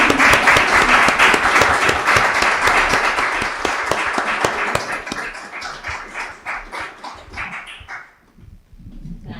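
Audience at a presentation of Mujeres Archipiélago de Patrimonios breaking into loud applause, dense clapping close by that thins into scattered claps and fades out after about eight seconds.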